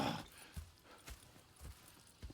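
Horses' hooves clip-clop at a slow walking pace in Red Dead Redemption 2, a few soft thuds spaced about half a second apart, fairly faint and close, with no talking.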